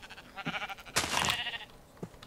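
A Minecraft sheep bleats in a short wavering cry, quiet and close, with a faint second bleat at the end, no talking.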